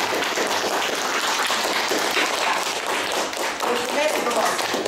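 An audience applauds loudly and continuously, a dense wash of clapping with some thumps and crowd noise throughout.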